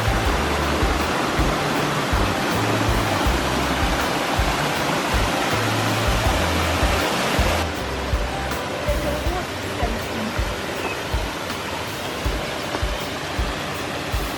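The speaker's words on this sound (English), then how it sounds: "Every little bridge, another little waterfall." Continuous broadband rush of a small waterfall beside a bridge on a forest hiking trail in the Northern Black Forest, close and steady, with the tone shifting abruptly midway as the position changes.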